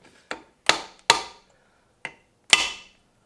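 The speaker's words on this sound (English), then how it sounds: "Now you just give it a little tappy tap tap." Five sharp taps knock at a Mercury 2.5 outboard reed block to loosen it, coming as irregular close hits with short decays and quiet between them.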